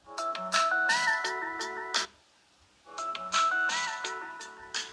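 A Samsung Galaxy S20 FE plays a ringtone through its loudspeaker: a bright, tuneful melody in two loud phrases separated by a short pause, heard close up with no talking.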